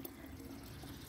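Water is poured into buttermilk to thin it for a spray bottle used on fruit plants in a terrace garden, a steady, even splashing and gurgling pour with no talking.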